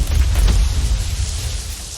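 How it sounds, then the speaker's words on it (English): A video game oil slick bursts into flames with a short, low, rumbling roar like a fireball igniting, fading into a crackling, windy hiss. "That's the sound of an oil slick going up in flames."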